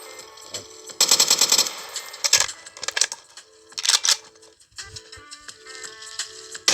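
Rapid bursts of synthetic gunfire from a Minecraft gun mod in several volleys, sharp and loud, separated by short gaps with metallic clinks.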